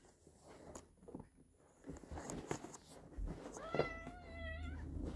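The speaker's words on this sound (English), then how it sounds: "My kitty wants to say hi." A house cat meows close by, a drawn-out rising cry followed by shorter meows near the end, with faint shuffling and handling noises around it and no talk.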